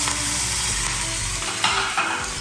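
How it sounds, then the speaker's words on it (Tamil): Cumin, asafoetida and torn curry leaves hit hot oil in a tempering for raw mango rasam, giving a loud, steady, close sizzle with a few brief crackling flares, no voices. "சீரகம், பெருங்காயம் நல்ல வாசனை கொடுக்கும், அண்ட் கருவேப்பிலை அப்படி பிச்சு அப்படி போடணும்"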